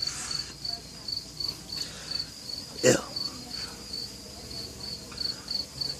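Cicadas drone outdoors in a steady insect chorus, with a repeating high buzz that swells in regular pulses, and a person makes a brief exclamation midway.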